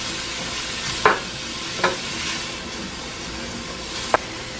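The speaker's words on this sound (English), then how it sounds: "here is some garlic and ginger. I'll stir it." Garlic and ginger fry quietly in a pan with a soft continuous sizzle, broken by three brief scraping stirs of a utensil against the pan.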